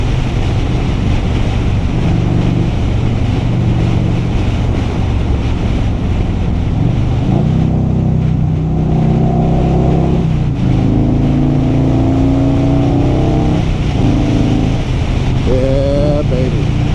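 A 1984 Harley-Davidson motorcycle engine starts and runs, its revs rising and falling in a few pulls beneath heavy, roaring wind noise.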